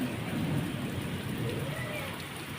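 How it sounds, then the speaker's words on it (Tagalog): First rain of the season falling in Qatar outdoors, a steady, dense wash of rainfall hiss that continues evenly throughout. "unang ulan sa Qatar"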